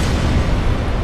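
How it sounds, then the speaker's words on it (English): A boss's explosion attack in Dark Souls: a loud, sustained, rumbling blast filling the low end, roaring steadily for about a second with no talk over it. "doing your explosion again"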